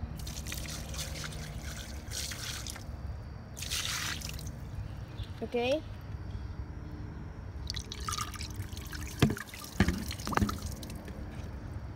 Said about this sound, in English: So I'm gonna do a bucket flush.